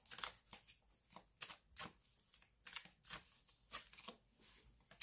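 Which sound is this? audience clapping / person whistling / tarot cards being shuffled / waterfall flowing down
tarot cards being shuffled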